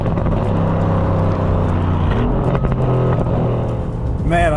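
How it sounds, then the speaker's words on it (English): A 2026 Bentley Flying Spur Speed with an Akrapovic exhaust, a loud, steady close engine roar that shifts in pitch as it revs, with a brief louder burst at the end. "thanks to the Akrapovic Exhaust, which adds not just sound, but an unofficial power boost"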